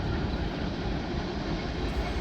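D&H freight train 11R rolls across the Harpersville Trestle, a loud, steady rumble and roar of cars passing close by, continuous and broadband with no voices.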